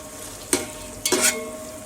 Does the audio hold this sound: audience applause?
no